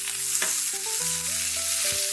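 Leaves being stirred in a little refined oil in a pan, a steady sizzle running throughout with scraping stirs and a few utensil knocks against the pan, close and continuous with no talk.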